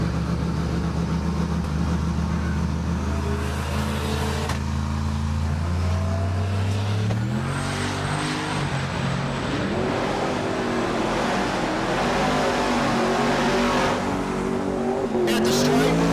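Two drag racers launching at a Great Bend, Kansas dragstrip, a turbocharged 300-cubic-inch inline six and a 1999 Chevrolet Silverado, loud engines climbing through rising gear pulls with tire noise. An announcer talks over the roar.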